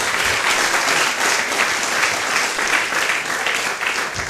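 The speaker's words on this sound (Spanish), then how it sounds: "Fuerte el aplauso al Rey." A church congregation claps loudly and continuously, a dense, even wash of applause from a large crowd that holds steady throughout.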